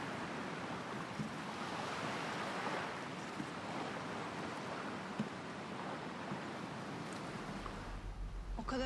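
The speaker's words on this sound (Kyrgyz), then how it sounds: "Суунун шырылдаган үнүн уксаң." Sea waves rush in a steady, loud wash of broadband surf that continues without break, with a low rumble entering near the end and no voices.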